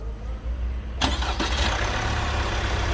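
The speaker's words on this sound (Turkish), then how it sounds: "Ve marştaki ilk sesi duyalım arkadaşlar" An Opel Insignia 1.6 CDTI diesel engine cranks and catches after a timing chain replacement, then settles into a steady, loud idle that continues to the end.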